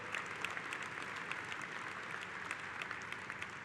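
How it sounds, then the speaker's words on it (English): A large audience at the 80th CWA union convention keeps up a sustained round of applause. The dense clapping sounds distant and fairly faint, and no one speaks over it. "Give yourselves a round of applause"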